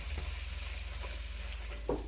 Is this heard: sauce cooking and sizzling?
yes